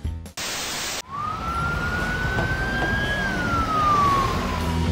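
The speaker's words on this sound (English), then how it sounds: "If you hear the sirens or see these emergency vehicles, then let them go first." An emergency siren wails close by over steady road noise, its pitch sliding slowly up then down, after a short burst of static-like hiss.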